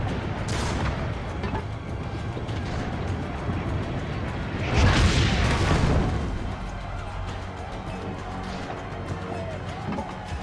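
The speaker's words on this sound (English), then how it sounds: "Destroy the enemy's cannons." Booming cannon blasts from a battle in the video game Assassin's Creed: Brotherhood, with a louder burst in the middle over a constant din of combat noise and shouting.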